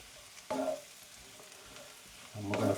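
Sliced mushrooms hit a hot pan for a steak Diane sauce, giving a soft sizzle with a sharp burst at the start and a louder rush of frying and stirring near the end.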